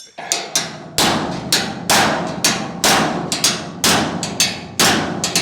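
A body hammer slaps a damaged car wheel well panel in a steady series of about ten loud, ringing metallic blows, each decaying before the next, with no talk.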